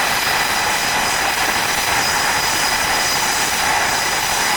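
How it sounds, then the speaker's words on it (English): A V-22 Osprey tiltrotor aircraft roars past at an air show at Kaneohe Bay, Hawaii, a loud, dense, unbroken engine and rotor rumble filling the whole span without pause. "So powerful is the V-22 to your right, making its way back in with a right turn."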